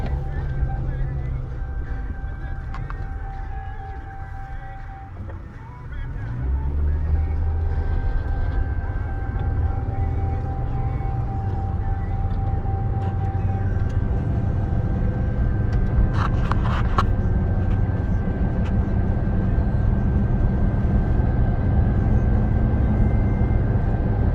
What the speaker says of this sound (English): It's driving smooth. It has good power going up this hill.